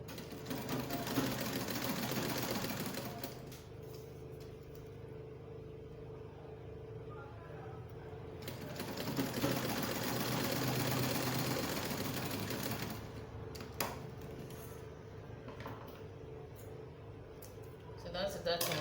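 A sewing machine runs steadily and quietly as it stitches a one-inch dart on a jumpsuit, with a brief lull in the middle before the motor hums on again.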